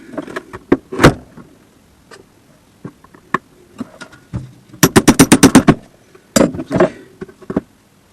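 A found air rifle is handled and cocked, producing sharp mechanical clicks and clacks, then a rapid run of about eight ratcheting snaps, followed by more clunks, close and loud with no speech.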